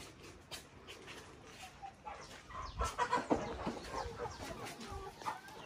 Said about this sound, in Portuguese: Galinhas famintas, a gente chega aqui